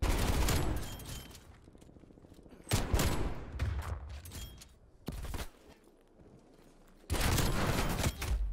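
Dual-wielded magnum pistols fire in Black Ops Cold War gameplay, with loud clustered bursts of shots separated by quieter gaps and no talk over them.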